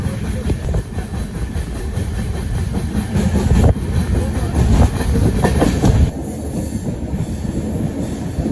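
A train rolls past Nagargali railway station in a forest, giving a loud, close, steady rumble with rhythmic wheel clatter and a faint squeal that drops away near the end.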